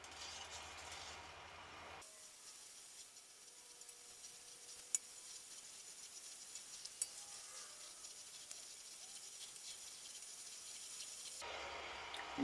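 Lilac jelly mixture heating toward a boil gives a faint, steady hiss with occasional tiny clicks and pops, quiet and continuous between louder handling noises at the start and end.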